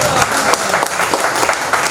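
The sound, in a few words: audience applause at a training seminar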